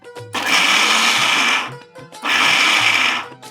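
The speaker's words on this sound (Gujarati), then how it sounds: "તો આને મિક્સર જારમાં લઈને એકવાર પીસી લઈએ" A mixer grinder jar coarsely grinds soaked lentils in two loud pulsed whirring bursts, each about a second and a half long, separated by a brief pause.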